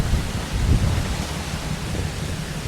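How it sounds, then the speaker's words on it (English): Thunder from an approaching late-day storm rolls as a deep, continuous rumble under a broad hiss of rain and wind, fairly loud and with no speech. "It's getting a little late and the storm's rolling in"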